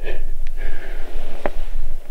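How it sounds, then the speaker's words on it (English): A pet sleeping in a bushcraft shelter in the snow snores up close, loud breathy snorts and sniffles in a rough, steady rhythm. "He's snoring."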